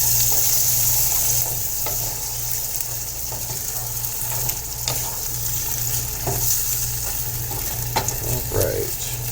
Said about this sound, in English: Now we're going to add in our can of diced tomatoes. Just give it all a good stir,